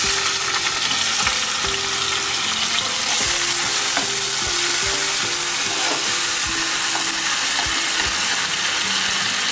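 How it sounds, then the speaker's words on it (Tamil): Two chopped tomatoes fry in a pan for a spicy black chickpea masala, giving a steady, loud sizzle with scattered clinks and scrapes of stirring throughout, without any talking. "இந்த 2 தக்காளி பழத்தையும் இப்போ நம்ம வந்து இதோட சேர்க்கலாம்"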